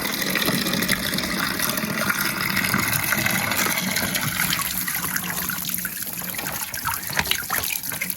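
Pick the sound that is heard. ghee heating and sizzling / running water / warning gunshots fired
running water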